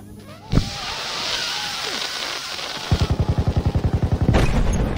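Gunfire in the video game Battlefield V. A single loud shot is followed by a sustained engine-like rumble, then a rapid, evenly spaced burst of automatic fire, and a final blast near the end.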